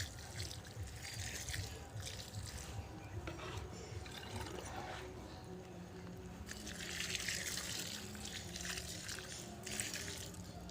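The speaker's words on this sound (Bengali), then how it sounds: "এবার ভালো করে জল দিয়ে ঢেলে দিন" Water poured steadily onto soil around a young bean plant, a continuous splashing trickle close by for the whole stretch, swelling louder near the end, with no talking.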